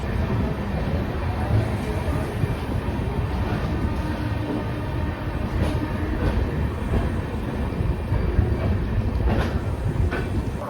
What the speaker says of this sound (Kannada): ನಮ್ಮ ಟ್ರೈನ್ ಈಗ ಡಿಪಾರ್ಟ್ ಆಗ್ತಿದೆ KSR Bengaluru railway station platform number 5ರಿಂದ.